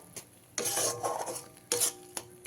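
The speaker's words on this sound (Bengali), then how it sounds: "এইভাবে মিশিয়ে নিতে হবে সুন্দরভাবে তেলটা ছেড়ে দিয়েছে" Mixed vegetable masala with cashew paste is stirred in a pan, giving close scraping strokes in three or four bursts with quiet gaps between them and no voices.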